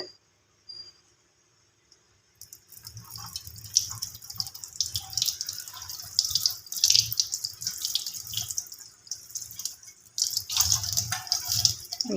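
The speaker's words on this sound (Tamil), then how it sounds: "இப்போ தண்ணியில் பாருங்கள் நான் வாஷ் பண்ணுறேன்" Tap water runs steadily as homemade hair dye is rinsed out of hair at a sink, starting after a brief quiet moment and continuing as a close, unbroken splashing stream.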